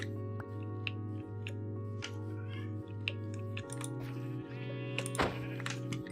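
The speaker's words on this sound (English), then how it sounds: "you can hear my cat in the background" A pet cat meows in the background during a game session, mewing sounds rising over a steady hum of game music and sound effects, faint and repeated rather than up close.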